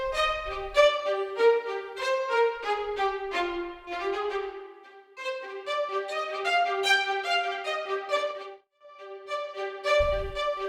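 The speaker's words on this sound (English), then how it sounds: "initially it comes with the spiccato feather loaded into the first slot," Unprocessed 8Dio Century Strings spiccato patch playing a quick phrase of short, bouncing detached string notes, clean and close, with a brief low thump near the end.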